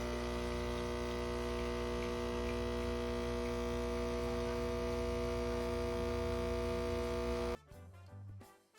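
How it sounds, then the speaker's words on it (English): A Breville Barista Express espresso machine brewing: a steady machine hum with a low, pulsing pump drone runs continuously, then cuts off abruptly near the end, leaving brief quieter rattles. "I just love that brewing sound."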